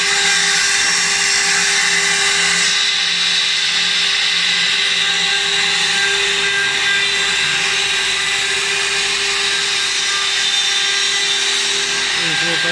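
A milling machine cuts a wooden baluster with a loud, sustained high-pitched whine and grinding, steady throughout; a voice speaks briefly over the noise.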